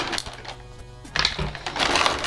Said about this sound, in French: Désolé pour les grésillements du plastique.